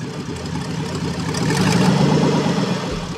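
An LS-swapped Mustang engine idles with a choppy, lumpy burble as the car creeps forward on a touch of throttle, the note swelling slightly midway, close by and steady.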